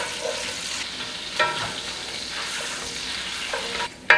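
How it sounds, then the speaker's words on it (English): Salt pork sizzles steadily in olive oil for fresh pasta sauce, a close, even frying hiss with brief spatter bursts and a sharp clatter at the end. "now let's put in our salt pork. And that cook for about 5 minutes or so."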